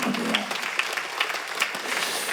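A church congregation applauds together during a Sunday worship sermon, a short burst of steady clapping at moderate volume that carries on evenly throughout.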